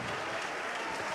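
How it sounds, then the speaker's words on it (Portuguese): A church congregation claps and applauds together in response to a call to praise, a dense, steady wash of many hands filling the whole short moment without pause. "todos os salvos aplaudam, glorifiquem"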